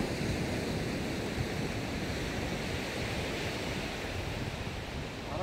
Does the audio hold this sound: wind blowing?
yes